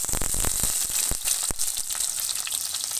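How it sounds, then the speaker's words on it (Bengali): Chopped onion and green chili hit hot oil in a pan, a loud, close, continuous sizzle with crackling pops throughout. "এবারে পেঁয়াজ কুচিটা, ঝাল কুচিটা ঢেলে দেবো"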